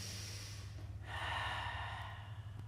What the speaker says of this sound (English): Take 2 deep breaths here.